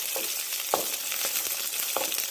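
Chopped tomatoes sautéing in hot oil with mustard seeds for onion sambar, a continuous close sizzle broken by a few sharp popping bursts.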